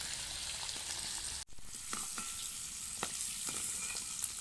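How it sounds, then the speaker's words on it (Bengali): Peeled boiled duck eggs frying in hot oil, a quiet, even sizzle with a brief dropout and scattered soft pops and taps from turning them. "ভাজা হচ্ছে, নতুন ডিম তো দেখো একটু ভেঙে ভেঙে যাচ্ছে"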